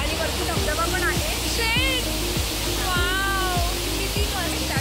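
Amboli waterfall roars as a constant broadband rush of water, with people talking over it throughout.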